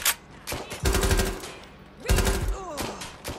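Bursts of automatic gunfire in Watch Dogs Legion, several short loud volleys separated by brief pauses, with sharp single shots and clattering effects in between.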